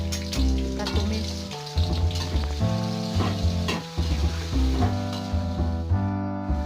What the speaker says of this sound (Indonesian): Bumbu yang dihaluskan terlebih dahulu pemirsa. Kita tumis.